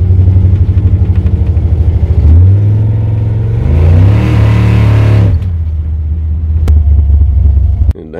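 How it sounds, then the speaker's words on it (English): A Chevrolet C10 pickup truck's engine rumbles loudly and close, climbing through a steady rev midway and then falling back to a heavy idle, with a brief knock near the end. "You gonna do a burnout?"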